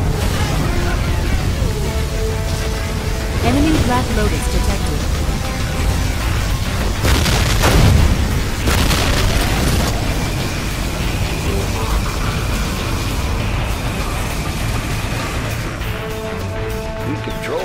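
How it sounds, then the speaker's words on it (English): Particle cannon strikes from C&C Generals Zero Hour rumble and crash in a long, dense barrage of explosions and booms, with a heavy peak midway and a game voice announcing over the din. "Aurora. Particle cannon activated."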